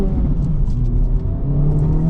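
A 2024 Acura Integra Type S engine hums steadily from inside the cabin while driving, a close, low rumble at a constant pace with no talk.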